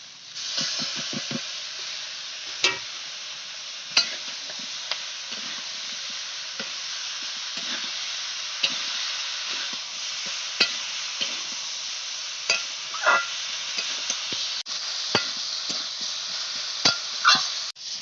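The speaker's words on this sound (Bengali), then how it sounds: "পালং শাকটা দিয়ে একটু ভালো করে কষিয়ে নিলাম" Boiled spinach with salt and turmeric being sautéed in a pan, a steady sizzling hiss broken by scattered utensil scrapes and clinks against the pan, close and continuous with no talking.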